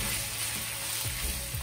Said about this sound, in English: We're going to add the sliced mushrooms and the tofu pork, and just stir that through for a few minutes.